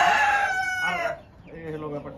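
Hens, including a red hen and a frizzle, cluck and cry close by in a repeated, busy burst; the calls fade after a second and a voice talks over fainter bird sounds.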